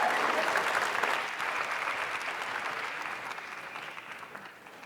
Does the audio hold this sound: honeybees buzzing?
no